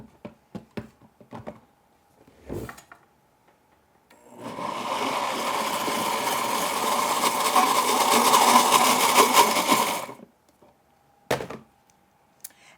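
A blender whirs loudly and steadily for about six seconds, mixing a healthy Nanaimo bar mixture, with a few sharp knocks and clatters before and after the run.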